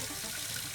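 Water gushing from a tap in a household setting, a steady, hissing rush filling the brief moment without pause.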